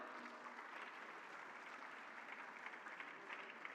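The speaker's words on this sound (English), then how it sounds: "A big round of applause for Ms. Sirisha." Audience applause at a startup festival in India as a CEO is invited onto the stage, a faint, even patter of clapping from a crowd heard at a distance.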